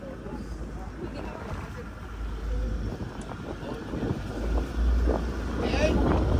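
Wind buffets the microphone in a steady low rumble while travelling outdoors near water in Cebu, with voices talking over it.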